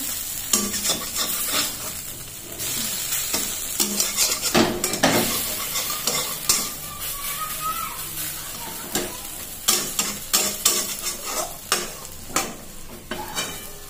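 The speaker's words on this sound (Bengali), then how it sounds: "এবার কম হিটে ভাজবো।" Poppy seed paste fries on low heat in a pan, with repeated scraping strokes and clinks of a utensil stirring against the metal over a steady, close sizzle.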